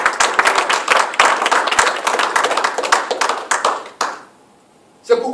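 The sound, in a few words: congregation clapping and cheering for the glory of God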